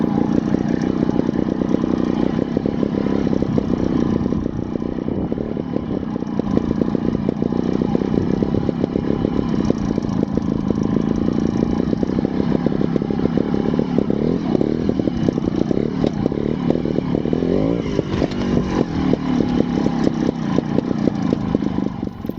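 A Scorpa 250 trials motorcycle engine runs steadily and close by throughout, a constant buzzing, rattly drone with slight shifts in pitch as it idles and revs lightly.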